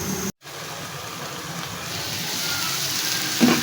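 Beef tikka boti simmers on dum in a pan as a steady soft sizzle and hiss, broken by a brief cutout near the start and a small clink near the end.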